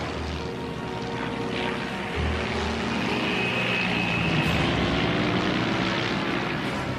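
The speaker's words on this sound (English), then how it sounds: "He opens the throttle, a life or death attempt to level the plane." Dornier propeller plane at open throttle, a steady loud droning engine roar with a rising whine partway through, heard without speech.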